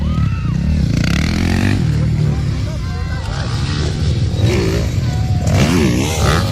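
Zaira Paco's 250cc racing motorcycle revs and roars while an excited voice talks over it, the engine note rising and falling in sweeps, loudest toward the end.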